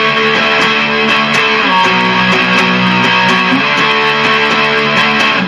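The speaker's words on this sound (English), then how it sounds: "We're going to put the distortion on the amp." A dense, buzzing electric guitar drenched in amp distortion, playing a steady chugging riff with sustained chords, loud and continuous.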